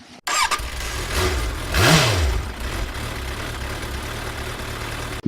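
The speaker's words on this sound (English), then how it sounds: "This is a Suzuki Savage. It's a 1996. It's a 650." A 1996 Suzuki Savage 650 single-cylinder motorcycle cranks and fires nearby, rising briefly in a rev before settling into a steady, thumping idle.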